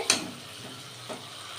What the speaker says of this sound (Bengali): তো চলো মাংসটা কষা দিই এবার